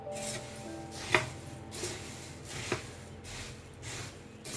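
Puffed rice being stirred and tossed for garlic sev chivda, a soft continuous dry rustle with two sharper clacks from the spoon against the pan, close up, with no talking.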